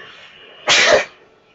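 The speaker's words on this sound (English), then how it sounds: "I'm sneezing and I'm ready to kill" A single loud, abrupt sneeze-like burst lasting about a third of a second, rising sharply out of quiet game background noise and then fading.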